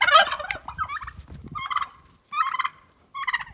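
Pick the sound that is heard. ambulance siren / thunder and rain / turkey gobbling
turkey gobbling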